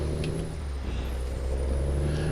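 A heavy truck of about 68,000 pounds in the American Truck Simulator video game, with a constant low engine drone and an air brake hiss blended into the steady mechanical noise. No one speaks.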